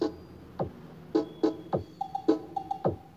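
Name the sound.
mid-high speaker playing audio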